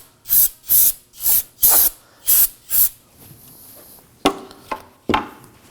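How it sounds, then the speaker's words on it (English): Brake parts cleaner sprayed from an aerosol can onto a rear parking brake assembly of an Acura MDX, six loud sharp hissing bursts in a steady rhythm, followed by a softer continuous hiss and a few clunks, close up with no talk. "we're gonna make sure we use brake parts cleaner and spray some"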